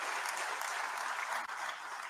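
Applause from members of parliament in the assembly chamber, a steady wash of many hands clapping, heard at a distance and fairly faint.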